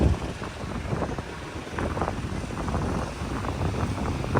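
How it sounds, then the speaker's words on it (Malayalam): Wind buffets the microphone at RK Beach, a constant low rumbling roar with gusty swells and no voices. "നല്ല കാറ്റ്."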